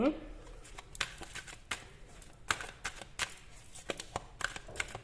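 A deck of tarot cards is shuffled by hand in a series of crisp, irregular snaps and riffles, close and fairly quiet, while someone talks over them.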